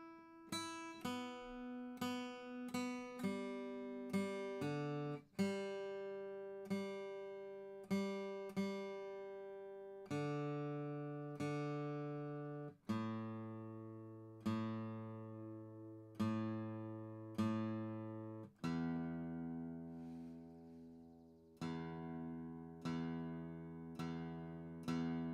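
Quiet guitar strings plucked one at a time on a guitar that is out of tune, each note ringing and decaying, some notes repeated as if checking pitch, alone without talk.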